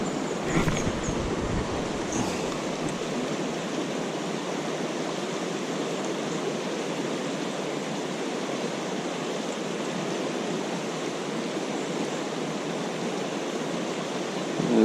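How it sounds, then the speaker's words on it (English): A hard-flowing river rushes steadily and loudly, a dense broadband roar of water that holds constant throughout without any voices. "The river's flowing pretty hard."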